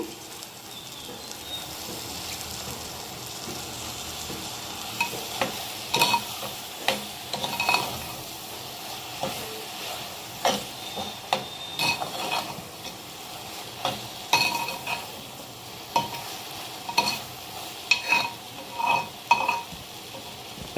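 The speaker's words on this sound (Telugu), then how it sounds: "ఇప్పుడు వంకాయ ముక్కలు వంకాయ ముక్కలు వేస్తున్నాను" Eggplant pieces frying in a pan for an Andhra eggplant, raw mango and prawn curry, with a steady sizzle throughout and intermittent scraping stirs and clinks of a utensil against the pan.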